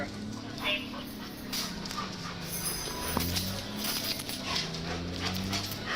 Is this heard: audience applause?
no